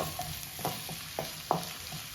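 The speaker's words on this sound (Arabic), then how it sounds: "دابا غنضيف البصله ديالي، الزيت هو سخن" Onion fries in hot oil with a steady hiss, and a few knocks and scrapes of stirring land over it, close and fairly quiet with no voices.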